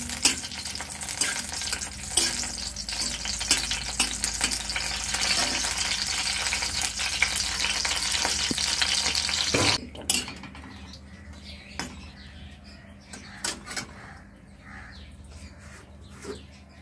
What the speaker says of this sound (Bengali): এবার সর্ষের তেল দিচ্ছি কড়াতে, আর শুকনো লঙ্কা দিলাম